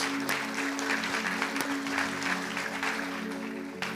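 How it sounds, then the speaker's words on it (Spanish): A church congregation breaks into steady, sustained applause during a worship service, the dense clapping filling the room evenly for the whole stretch. "Sí, dale un aplauso al Señor."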